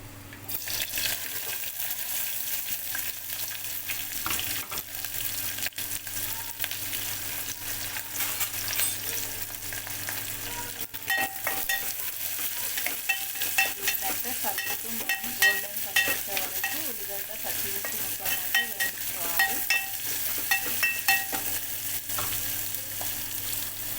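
Onion and green chilli pieces fry steadily in a pan for a long stretch, a constant sizzle with stirring and scraping sounds growing busier toward the middle, nobody speaking.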